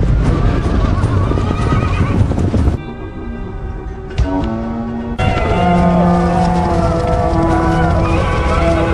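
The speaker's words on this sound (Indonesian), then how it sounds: "Beberapa saat kemudian terdengar derap kuda dari kerajaan." Horses of a Dothraki khalasar arriving from a kingdom, with whinnies and neighs standing out over a dense, loud bed of hoofbeats and movement, then a brief quieter stretch before the full mass of sound returns.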